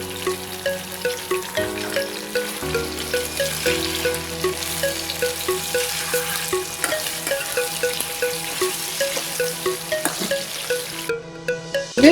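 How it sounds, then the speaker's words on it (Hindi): Chicken with garam masala and spices cooking in a pan until its water dries off: a continuous sizzle and frying hiss under rhythmic, pulsing background music, with no talking. "चिकन को हम इसमें अच्छे से पकाएंगे जब तक इसका पानी खुश्क ना हो जाए।"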